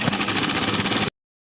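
A sewing machine stitches the back cross curve of ladies' uniform trousers, giving a dense, continuous motor hum about one second long that cuts off abruptly.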